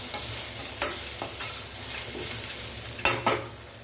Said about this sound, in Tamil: நீர் அது போகிற வரைக்கும் நம்ம வதக்கி கொடுக்கலாம்.